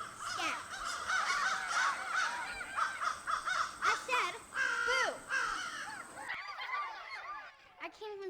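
Crows caw repeatedly and loudly in a farm field, a dense flock of harsh calls overlapping throughout, with a voice briefly speaking near the end.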